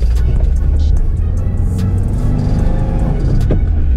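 A 2022 Subaru WRX with a 2.4-liter boxer turbo engine pulls away, its loud, deep rumble rolling on close by with a few brief higher clicks and knocks on top.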